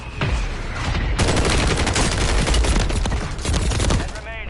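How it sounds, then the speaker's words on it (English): Sustained gunfire from a Warzone battle royale match, dense bursts of automatic fire and impacts with a heavy explosion-like mortar strike, loud and close throughout. "Copy that. Mortar strike inbound."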